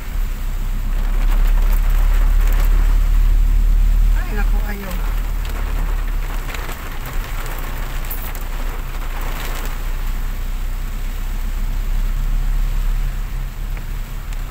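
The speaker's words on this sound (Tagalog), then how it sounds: "napakalakas ng ulan" Heavy rain from Typhoon Uwan pours steadily at the Angat area, a loud, dense wash of rain hitting surfaces that never lets up, with a low rumble beneath and a few short spoken exclamations.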